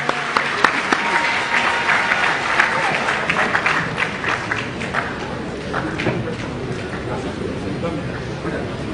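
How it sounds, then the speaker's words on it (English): A crowd at a live Ghana Teacher Prize 2025 awards ceremony claps steadily, a dense, sustained applause filling the hall throughout, with a few voices mixed in. "Can we clap in advance for the winner?"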